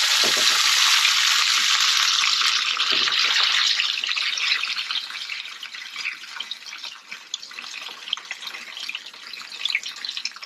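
Steady hissing sizzle of lightly salted haddock and cod frying in hot oil, loud at first and then settling into a softer crackle with scattered pops.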